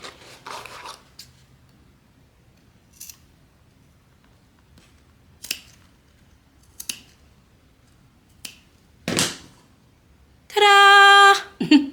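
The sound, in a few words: cutting off leftover material with scissors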